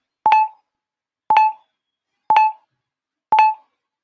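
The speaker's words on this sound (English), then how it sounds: "Do you hear that little beeping?" Four short identical electronic beeps from a mock draft website, evenly spaced about a second apart, clean and isolated with silence between each tone.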